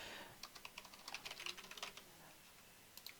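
Password keys typed on a computer keyboard while creating a new user on a domain controller: a quick, quiet burst of close clicking keystrokes, then a pause and two final taps.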